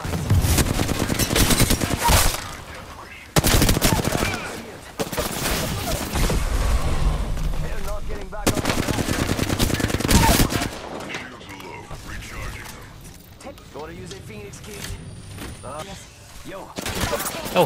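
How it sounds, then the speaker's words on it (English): Dense video-game gunfire as a character takes incoming shots: loud, close automatic bursts and explosive hits come in long runs broken by brief pauses, with voices talking over the later part. "Being shot at."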